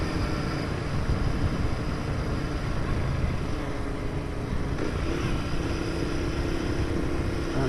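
Royal Enfield Interceptor motorcycle engine and exhaust running steadily and loud close by, a continuous broadband drone with a low rumbling note and no voices over it.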